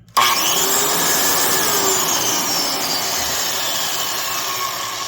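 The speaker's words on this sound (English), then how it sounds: "Since this one's brand new, it does sound pretty decent, but man, it gets up to speed quick." A Ridgid R3204 6-1/2-inch circular saw motor snaps on and spins up quickly to a loud, steady high-pitched whine, its tone gliding slightly as it settles, close and alone.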